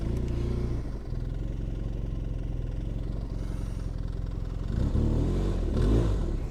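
A heavy snowmobile's engine runs in deep snow, a steady low rumble that swells as it revs toward the end, nearby and with no voices.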